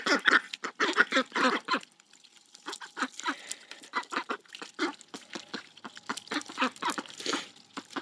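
Domestic ducks quack in rapid, excited bursts, a chattering run of calls that pauses briefly and then picks up again, fairly close.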